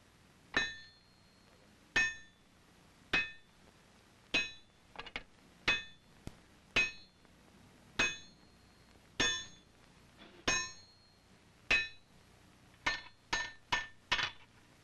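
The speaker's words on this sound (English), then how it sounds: "Here he will heat and hammer a bar of solid wrought iron into a flat scalp" A hammer strikes a bar of hot wrought iron at a colonial forge with ringing metallic clangs. The blows are spaced about a second apart, with a few quicker double strikes and a rapid cluster at the end.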